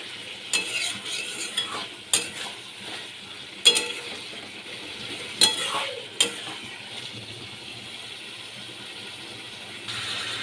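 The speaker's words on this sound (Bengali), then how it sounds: "ভালো করে কষিয়ে নিচ্ছি।" An egg curry masala with cauliflower and potato sizzles in a pan, a soft steady frying hiss with intermittent spatula scrapes and taps against the pan, close and unaccompanied by talk.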